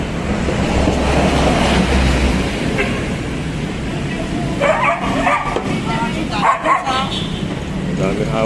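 Dogs bark and yip in bursts through a busy outdoor scene, with people talking nearby and steady background noise.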